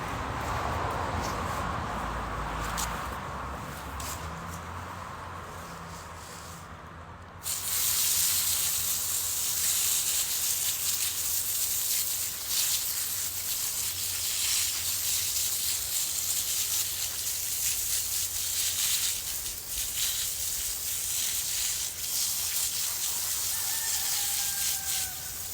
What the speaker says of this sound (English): I'm gonna grab the hose and we can spray this off so you can see how many are there.